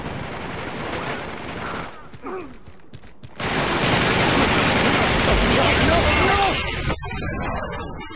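Machine gun fire in the video game Uncharted 3, loud sustained bursts of rapid automatic shots with a brief lull before a heavier stretch of continuous fire, a voice speaking underneath.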